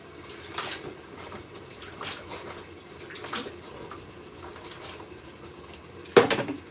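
Hands washed under a running tap, with water splashing in uneven bursts and gushes over a low continuous flow, close and moderately quiet, no talking.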